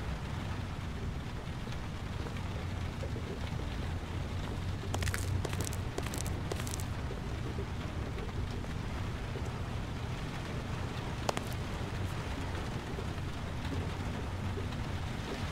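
Heavy rain pours steadily in the video game Heavy Rain, a constant dense hiss with a few brief sharp crackles of thunder, no voices.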